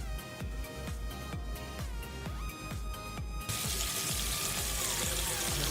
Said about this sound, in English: Fill up your bowl with water and mix that salt in.